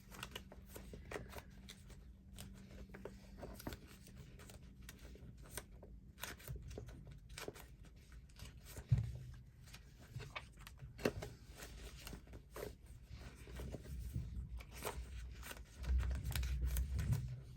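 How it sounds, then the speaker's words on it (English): Papers and craft supplies rustle and shuffle as someone rifles through a pile at a craft desk, a quiet, close, irregular stream of flicking and sliding sounds with occasional soft thumps and brief faint speech. "Excuse me while I rifle through my stuff."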